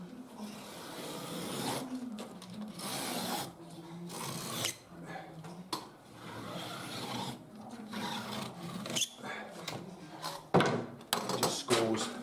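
A sharp Stanley knife blade scoring one face of a plasterboard-like insulation board: quiet, close rasping drags in short irregular strokes, with soft handling knocks between them and no talking.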